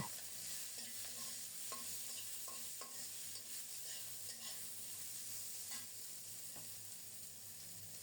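Yardlong beans fry in oil with garlic, green chili and black cumin, giving a quiet, continuous sizzle dotted with light clicks and taps of stirring.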